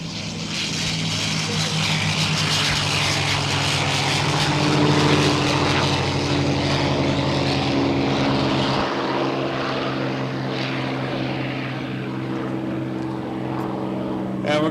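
A P-51 Mustang propeller fighter roars past at an airshow in Geneseo, New York, its loud, steady engine drone swelling and then gradually fading, with no talk over it.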